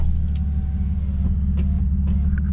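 A car engine idles steadily with a deep, constant low rumble, close and continuous throughout, with a few faint clicks and small mechanical noises on top; the car has just had a misfire fixed.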